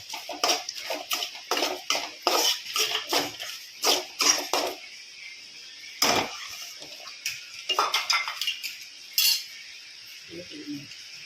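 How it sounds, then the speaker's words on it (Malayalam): Ground roasted coconut is stirred into a bitter gourd theeyal curry; a utensil scrapes and clinks against the pot in quick rhythmic strokes, then in slower, sparser ones, close and fairly quiet. "എന്നിട്ട് വീണ്ടും നമ്മൾ ഇതുപോലെ ഇളക്കം കൊടുക്കുക"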